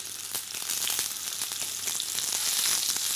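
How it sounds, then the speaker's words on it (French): Foie gras fries in a pan with a steady, bright sizzle, crackling softly and continuously throughout, close and moderately loud with no talking. "il y a environ 40 secondes que j'ai posé mon foie gras dans la poêle"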